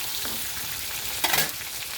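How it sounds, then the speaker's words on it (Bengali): Steady sizzling of beef frying in a pan, with a brief burst of stirring and spattering partway through. "গরুর মাংস কষা হচ্ছে।"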